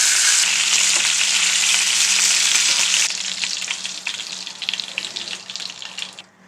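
Beef short ribs searing in an oiled pan, giving a loud, close, continuous sizzle that crackles and thins out toward the end as the meat is turned.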